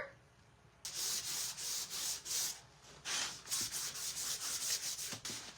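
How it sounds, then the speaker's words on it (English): Rhythmic back-and-forth strokes of sandpaper on wood, close up, repeating in steady bursts with short pauses between them. "Give that a good sanding."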